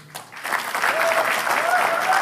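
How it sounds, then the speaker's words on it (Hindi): Audience applause at a stand-up comedy roast show, a dense steady burst of clapping from a crowd filling the room, loud and sustained after a brief quiet start, with faint voices mixed in. "तो उर्फी के लिए एक जोरदार तालियां बजाएंगे।"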